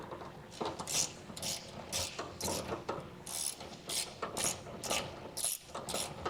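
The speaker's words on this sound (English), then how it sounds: "I'm just going to hand tighten it in before coming back with my ratchet" A hand ratchet tightens a bolt while a Timbren suspension enhancement system is installed on a 2022 Chevrolet Silverado, giving a fast, even run of close metallic clicks in repeated bursts with short pauses between strokes.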